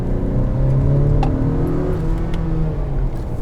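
A 2021 Acura RDX A-Spec with a turbo engine pulls through a corner under throttle, a loud, close engine hum with a steady rising tone and no talk.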